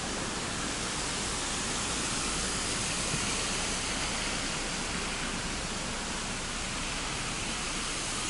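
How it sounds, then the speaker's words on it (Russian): Steady, dense rush of water falling in a swimming pool grotto waterfall, a constant roaring splash with no pauses or voices. "Там еще вон грот с водопадом."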